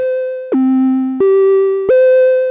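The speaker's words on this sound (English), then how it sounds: "we can get a crazy vibrato, the chiptune thing if we want, or a nice natural vibrato sound" Moog Matriarch synthesizer playing a bright sustained tone that steps between pitches, each note carrying LFO vibrato, clean and loud with no other sounds.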